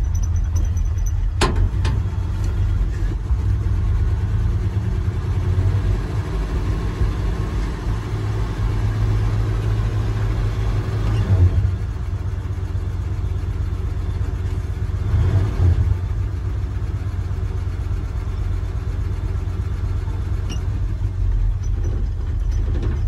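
A 1966 Dodge D100 pickup with a Poly 318 V8 idles low and steady, a constant close rumble with slight swells, a sharp click near the start and no voices.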